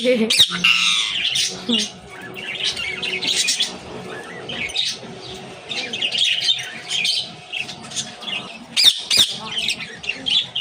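A pet parrot calls with repeated squawks and chirps, loud and close, in an indoor home setting.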